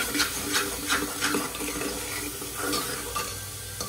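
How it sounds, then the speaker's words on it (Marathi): Masala paste frying in oil for a chole curry crackles and sizzles up close, stirred with rhythmic scraping strokes that rise and fall in even pulses, with no voices. "मसाल्याला चांगलं तेल सुटलं"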